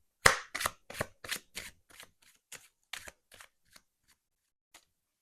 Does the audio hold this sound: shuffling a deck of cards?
yes